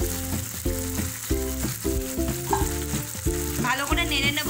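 Mustard, chili and poppy seed paste fries in a pan for an ilish fish dish, a continuous bright sizzle sitting under loud, rhythmic background music.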